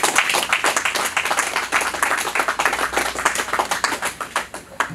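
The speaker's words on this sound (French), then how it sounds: "Est-ce qu'on peut applaudir cette présentation de notre bien-aimé?" Mourners at a memorial service give a sustained round of applause, many hands clapping in quick, uneven bursts, loud and close, with no talking.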